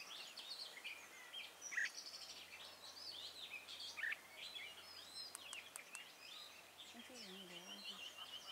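An oriental magpie-robin sings outdoors at a bird-trapping spot, giving varied whistled phrases and chirps at moderate distance over a steady background hum, with a low voice briefly heard near the end.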